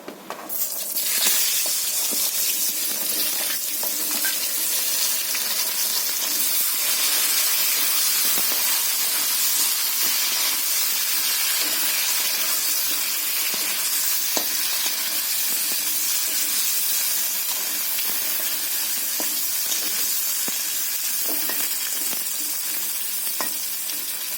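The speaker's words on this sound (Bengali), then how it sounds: "পটল আলুটা ভাজা হচ্ছে" Potatoes and pointed gourd fry in hot oil in a pan, giving a loud, steady sizzle that hisses on without pause, close up and with no voices.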